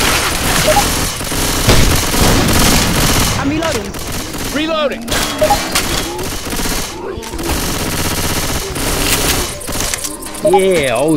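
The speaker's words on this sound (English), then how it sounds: "Reloading!" Mechanical clicks and clacks of a gun being reloaded in the video game Left 4 Dead 2, mixed into dense, loud gunfire and chaotic game noise, with people talking throughout.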